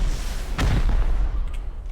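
A single gunshot in the video game Rust, a sharp boom with a low rumbling tail, heard alone against a muffled game background.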